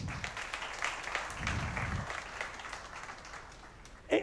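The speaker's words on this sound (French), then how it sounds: "on peut applaudir ça." Quiet applause from an audience at a French business award ceremony, a brief patter of clapping with some voices mixed in, fairly distant and soft.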